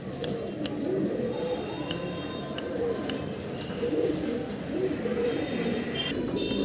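Caged pigeons coo in soft, low, rolling calls that repeat throughout, with a few sharp clicks and light background noise around them.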